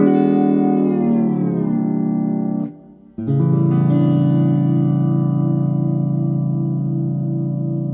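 A sustained electric steel guitar chord in 22-EDO tuning rings with a slow wavering beat, briefly drops out, then is struck again and rings on.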